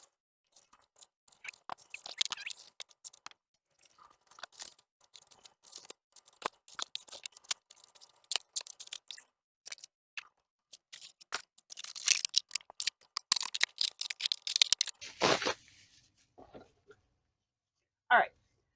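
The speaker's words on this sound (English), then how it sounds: "I'm going to wrap these pieces up in plastic" Items being wrapped in plastic and a shipping box packed with paper, heard as irregular bursts of crinkling, rustling and tearing, close up and loudest toward the end.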